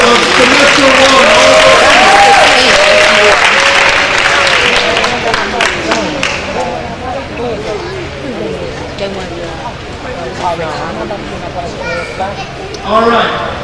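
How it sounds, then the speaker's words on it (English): Loud audience applause at a school awards banquet for honor roll students, strongest at the start and gradually thinning, with children's voices, chatter and crowd hubbub rising as the clapping fades. "Let's give one more round of applause for honor roll of semester one."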